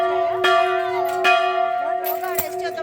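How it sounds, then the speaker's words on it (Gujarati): A large bell at Siddhivinayak temple rings with sustained, clear resonant tones, struck three or four times across the moment so each new strike blooms over the lingering hum, loud and close with no talk. "આ રીતના મસ્ત એક મોટો ઘંટ બધે નાખ્યો છે"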